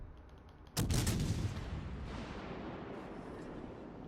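A ship's guns fire a single heavy, booming broadside in World of Warships, followed by a long rumbling decay over steady background noise.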